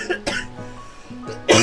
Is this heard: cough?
yes